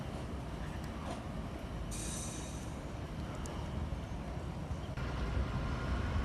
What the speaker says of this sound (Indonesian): Lokomotif khusus berwarna merah merupakan penarik rangkaian gerbong kereta api yang melintas di jalur hulu di Pekalongan